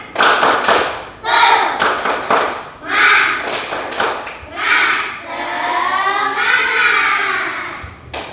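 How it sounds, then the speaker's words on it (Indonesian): Primary school pupils in a sixth-grade classroom clap together in a rhythmic spirit-clap pattern, loud and close, with bursts of children's chanting and voices between and over the claps. "Coba tepuk semangat."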